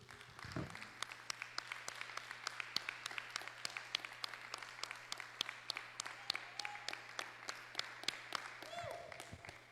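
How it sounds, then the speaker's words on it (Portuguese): A church congregation applauds after a prayer, a faint, steady patter of many hands clapping in a rhythmic beat, with a low hum underneath and brief voices. "Você pode dar uma salva de palmas para Jesus?"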